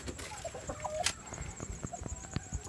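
Hens cluck and murmur in a coop, giving soft, scattered calls over faint background rustling and scratching, quiet and close.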